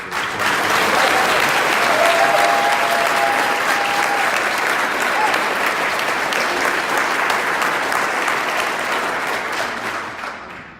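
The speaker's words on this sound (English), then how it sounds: "But round of applause for our president, please." Crowd at a Latinos for Trump rally in Houston applauds the president, a loud, sustained wash of clapping with some cheering that stays even for about ten seconds before easing off at the very end.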